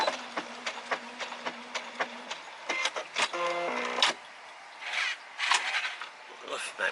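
A Brother SE630 sewing and embroidery machine halts, ties off and trims its thread: a close run of quick mechanical ticks, then a short stepped motor whir and a few soft clicks as it settles.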